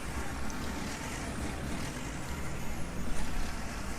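Truck engines drone in a continuous, dense roar during a racing game in Second Life, steady and broadband with slight swells toward the end and no talking.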